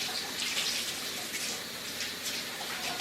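Tap water runs steadily over a sweet potato in a sink while it is rinsed clean. The splashing is continuous and close, with soft shifts as the potato is turned under the stream.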